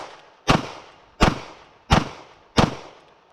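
Four rapid pistol shots fired just after a draw from a holster, evenly spaced booming reports with short ringing tails, fairly loud and heard alone without talk.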